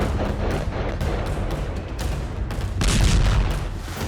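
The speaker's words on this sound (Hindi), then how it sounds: "ये यरूशलेम की तस्वीरें हैं, जहां हमास समर्थकों और इजरायल जवानों के बीच जबरदस्त फायरिंग हुई।" Gunfire and small bomb blasts crack out in a rapid, irregular series of loud bursts during street clashes in Jerusalem, dense and close, with no pauses and no speech.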